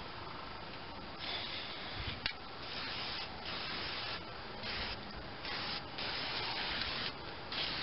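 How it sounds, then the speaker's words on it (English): Fluid Film lubricant hisses from an aerosol can onto the springs of an MTD snowblower with a 10 hp Tecumseh engine, in a series of steady sprays with short pauses between them, close and continuous. "Put some fluid film on these springs,"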